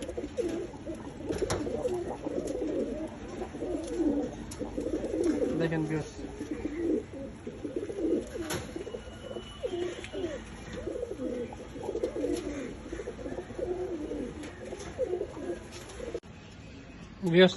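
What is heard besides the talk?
pigeons cooing, pair of pigeons let outside the cage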